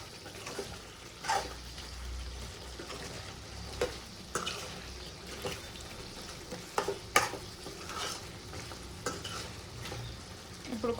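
Chicken methi curry sizzles and fries in oil in a pan, a continuous hiss broken by scraping stirs and clinks of a spoon against the pan, close and steady with no talking.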